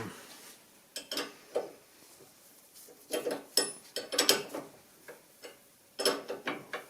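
Ratchet wrench with a 17 mm socket working on the steering of a 2006 Ford Fiesta, giving close metallic clicking in short irregular bursts with brief pauses between strokes.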